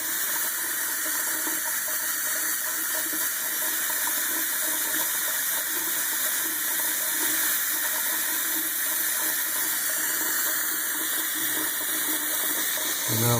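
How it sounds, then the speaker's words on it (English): Steady, continuous rush of running water draining through a bathroom sink's overflow holes, close and fairly loud, with no talking. "And now the water's going down those overfilled drain holes."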